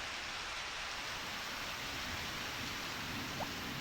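Steady rain pours continuously in the Harvest Moon: Back to Nature farming video game, a dense even hiss with no breaks and no voices, close and fairly loud throughout.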